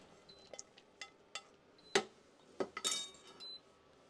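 Roasted cashews are tipped into a metal pot, giving quiet, scattered clinks and ticks with a few brighter metallic hits near the end.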